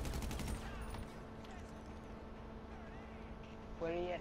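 Rapid gunfire from the video game GTA V Online bursts loudly at the start and again near the end, with a steady game background hum in between.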